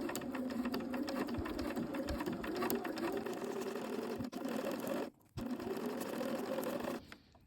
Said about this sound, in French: vous allez piquer à 2 mm du bord pour assembler votre biais